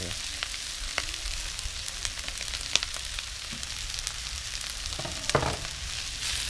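Rice being stir-fried with fiery chili paste and egg in a hot pan, a steady, fairly quiet sizzle with a few sharp scrapes and clicks of the spatula, no voices.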